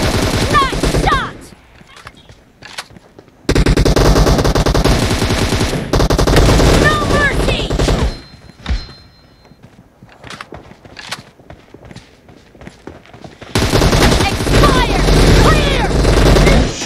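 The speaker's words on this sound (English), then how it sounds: "There's only two people shooting at the same time." Rapid automatic gunfire and single shots from a team deathmatch video game, loud and close, coming in dense bursts separated by quieter gaps, with players talking over the action.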